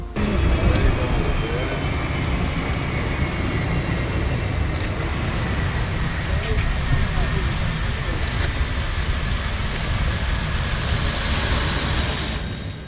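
Airplane on the first direct flight from Tashkent landing at Issyk-Kul airport, a steady loud roar of engine and rushing air holding throughout with no talk.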